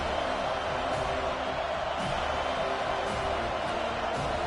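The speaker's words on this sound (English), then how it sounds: "how nice is it to have the home crowd going absolutely bananas" Home crowd at a football game roaring steadily and loudly throughout, a dense continuous wash of cheering with no break.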